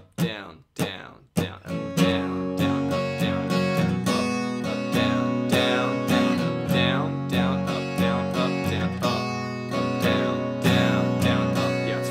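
Acoustic guitar strumming a combined down-and-up pattern for a pop song, a few separate chord hits at first, then a steady continuous rhythmic strum of bright, full chords close up without any voice.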